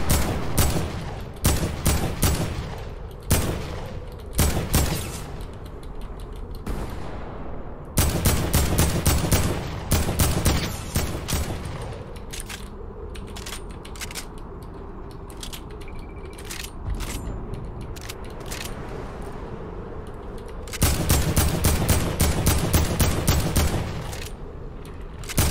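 AK rifle gunfire in a video game, loud rapid bursts of automatic fire broken by short pauses, with a quieter mechanical stretch in the middle before another long burst near the end.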